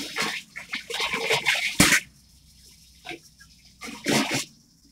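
A piston filler machine fills bottles with water in irregular bursts of splashing and gushing liquid, loud near 0 to 2 seconds, then a quiet pause before two shorter pours.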